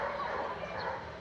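A pet dog barks and yips amid a noisy household setting, the woofs short and moderately close, blending with some low background murmur.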